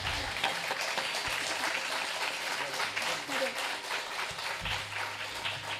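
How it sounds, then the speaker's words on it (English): Applause from a live audience at a satsang mela performance, dense clapping that continues steadily for several seconds beneath a speaker's voice. "Can we have a bigger round of applause?"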